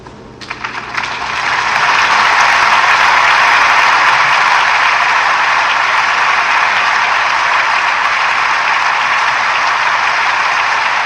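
Sustained audience applause at a classical concert ends a piece, with a few scattered claps at the start that swell within about two seconds into a loud, dense, steady ovation.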